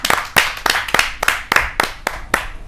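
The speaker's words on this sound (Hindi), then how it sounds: "मैं बहुत जोरदार तालियों के बीच उनको आमंत्रित करना चाहता हूँ।" An audience at a kavi sammelan poetry gathering claps for a poet, giving a loud, sharp run of about ten claps in a steady, even rhythm with no voices.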